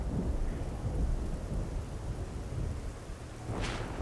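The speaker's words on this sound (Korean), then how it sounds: "천둥 소리 좋아." Thunder rolls in the video game Generation Zero, a loud, continuous low rumble blended with steady rain hiss, swelling briefly near the end without any talk.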